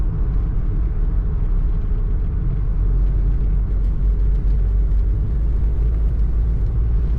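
A 1983 Toyota pickup truck driving on a road and easing off for a corner, heard from the passenger seat as a loud, steady low engine and road rumble with no breaks.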